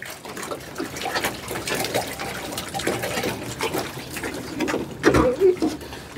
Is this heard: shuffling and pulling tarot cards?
no